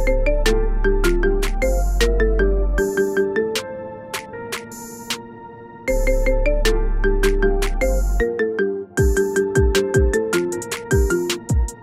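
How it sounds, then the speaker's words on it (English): A marimba remix ringtone of a song plays alone, bright mallet notes in looping phrases over a deep bass pulse, with crisp percussive hits toward the end. "Set as your ringtone today."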